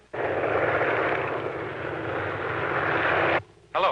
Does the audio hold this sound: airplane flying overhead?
yes